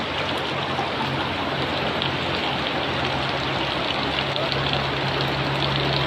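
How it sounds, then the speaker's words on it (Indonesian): Heavy rain pours down on a grape garden where water pools on the ground, a dense, steady hiss filling the whole stretch at constant loudness with a faint low hum beneath. "posisi sedang hujan deras sekarang."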